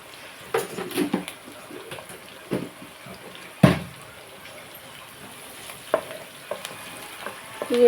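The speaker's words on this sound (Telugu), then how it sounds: "ఇలా ఉల్లిపాయ వేగుతున్నప్పుడు" Onions frying in a pan for a prawn and egg curry, a quiet sizzle with scattered clinks and scrapes of a spoon stirring, including one sharp knock.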